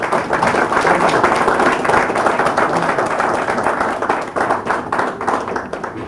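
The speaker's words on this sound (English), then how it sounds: "Can we give him a round of applause?" Steady, loud applause from an audience at a port terminal labour agreement signing ceremony, many hands clapping together for a guest for several seconds without talk.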